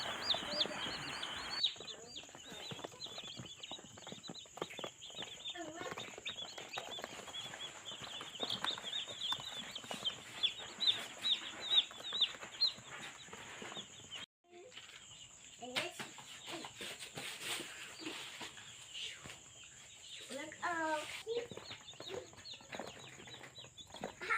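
Chicks in a homemade DIY brooding pen keep up a steady stream of high peeping and chirping throughout, close and fairly loud, with a brief dip near the middle.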